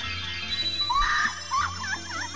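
The Great Fairy in the video game Majora's Mask lets out a shrill, warbling scream that rises and wavers over game music, loud and sustained for about two seconds.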